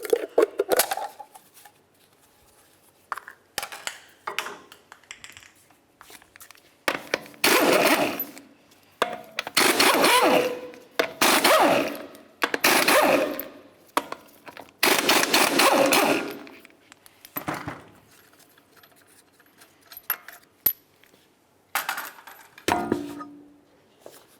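Lug nuts coming off a Toyota Camry Solara wheel, bursts of loud impact-wrench rattling separated by quieter gaps, nearby and repeated roughly five times along with metallic clinks.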